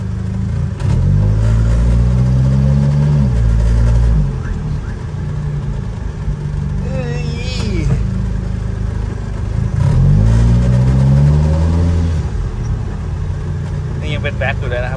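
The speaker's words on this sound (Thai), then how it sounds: "เมื่อนี้มีเสียงด้วยแต่ว่าอาจจะต้องรอรอบนิดนึงนะครับเพราะว่ารถเทอร์โบเนาะ" Turbocharged Datsun 620 pickup engine revving loudly in repeated rising bursts, with a strong low rumble and a whistling turbo spool, and people talking over it.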